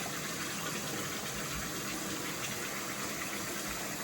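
Tap water runs in a steady, loud, continuous gush while hands are wetted and splashed on the face at a bathroom sink during a skincare routine; no voices.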